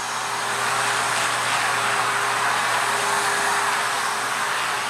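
Vacuum cleaner running at full power, a loud, steady broadband whoosh with a faint motor hum beneath, close and unchanging throughout.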